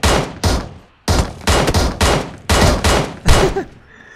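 Bursts of automatic gunfire from the mobile battle-royale game PUBG Mobile, roughly seven loud, closely spaced volleys over a few seconds, each a dense rattle of rapid shots with short gaps between.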